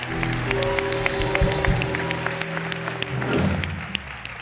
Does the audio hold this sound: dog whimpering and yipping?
no